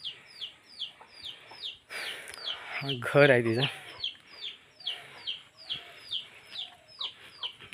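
Chickens in a roadside yard cluck repeatedly in a steady, close rhythm, with a brief louder squawk in the middle and a voice speaking briefly over them.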